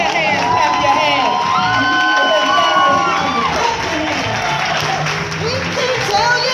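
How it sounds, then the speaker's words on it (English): A conference audience claps and cheers, crowd noise with whoops and shouts swelling over rhythmic music while a voice talks over the din. "Please, please, please, please, please clap your hands, clap your hands, clap your hands."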